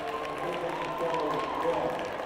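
A home crowd at a girls' region championship basketball game claps and cheers steadily as the starters are introduced, a broad wash of applause under a commentator's voice.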